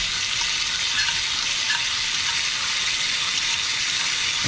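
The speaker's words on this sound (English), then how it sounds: "I'm going to add a slice of bacon, all right? And I'm gonna fry that off. To that, I'm also going to add my onion." Bacon and onion sizzle and fry steadily in a steak pan, a continuous close hiss at even loudness with no talking.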